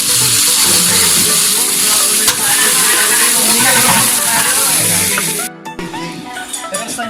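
Beef sisig sizzling on a hot plate, a loud continuous crackling hiss that cuts off abruptly near the end, followed by quieter clinks and background noise.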